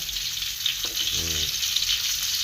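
Ingredients sizzle in a pan as they are lightly stirred and sautéed, a close, continuous frying hiss with a short scraping stir in the middle.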